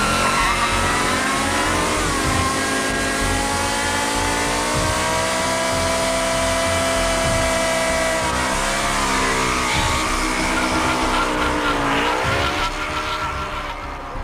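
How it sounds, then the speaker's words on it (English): A Yamaha VMax cafe racer with its V4 engine runs hard and loud, a sustained revving roar that climbs and falls in pitch over about fourteen seconds, close and with no voices. "the beautiful V4 engine sound"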